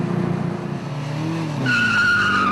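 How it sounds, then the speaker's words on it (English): Wheels slipping and squealing as a Toyota Celica launches off the line at a drag race start, engine roaring and a rising tire screech coming in loud and near toward the end. "Yeah, I got slipping wheels."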